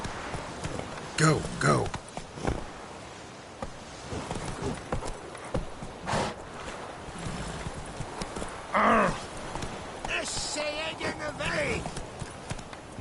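Hoofbeats from Roach, the horse in the video game Witcher 3, clip-clop at a fast gallop throughout, with a brief whinny. A voice and game dialogue speak over the galloping.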